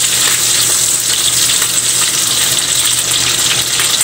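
Ginger sizzles in a hot frying pan, a steady bright hiss of oil crackling close by with no pause, alone and without any talk.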